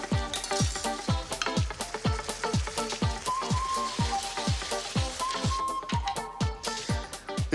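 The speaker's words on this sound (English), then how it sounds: "I just want to let this cook down so that beautiful rice drinks up all that wine" Risotto rice cooking down in white wine in a pan, a steady bubbling sizzle with a regular rhythmic stirring or tapping pulse throughout, close and fairly loud, with no talking.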